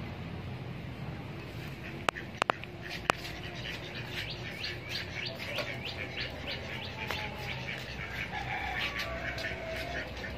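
Chickens cluck and chirp on a rooftop, where a pet duck is also kept, in a busy, moderately quiet mix of bird calls, with a few sharp clicks near the start and faint background voices.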